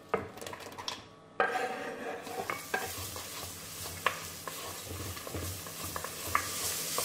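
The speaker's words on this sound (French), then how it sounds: "On va mettre à suer pendant à peu près 5 minutes l'oignon." Sliced onion sweating in butter in a pan, giving a steady low sizzle with scattered stirring scrapes and utensil clicks, close and alone without talk.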